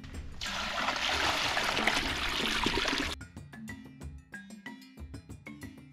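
Water splashing and pouring into a cooking pot in a village kitchen for cabbage stew, a dense rush for about three seconds, then scattered drips and trickles.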